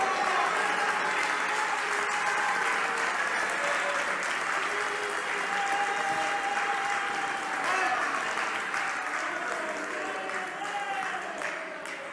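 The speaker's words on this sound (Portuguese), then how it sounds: "Aplaudam o Senhor Jesus Cristo." A church congregation applauds continuously, a dense, sustained wash of clapping from many hands that holds steady throughout.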